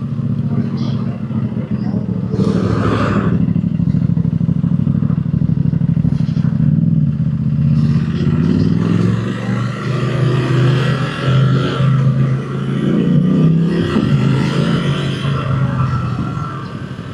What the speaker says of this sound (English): Listen to the sound of this bike.